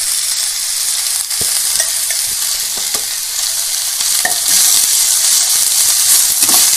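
Potato masala for poori kizhangu being sautéed in a pan, a steady bright sizzle and frying hiss with occasional stirring clinks, close and fairly loud throughout.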